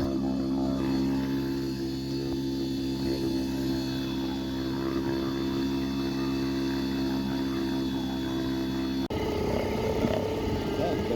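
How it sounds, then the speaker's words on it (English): An outboard engine on a sailing canoe runs with a steady droning hum, close and continuous, and its tone shifts abruptly near the end. "I'm going to get the engine on, drop the sails, and move"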